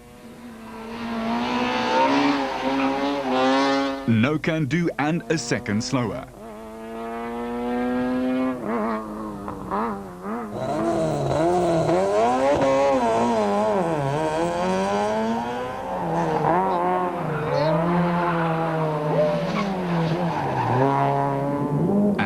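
A four-wheel-drive Super 2000 VW Polo rally car slides around tight confines on a stage, its engine revving hard and rising and falling with tyre squeal through repeated gear changes, a brief voice heard early on.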